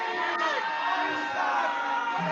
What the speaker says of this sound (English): So defend yourself over the jeering of a crowd.